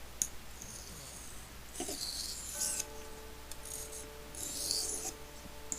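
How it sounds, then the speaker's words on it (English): A knife blade scrapes across a sharpening stone in several quick, rasping passes, close and fairly quiet, with short gaps between strokes. "passes on this stone just to prepare it for my finishing stone"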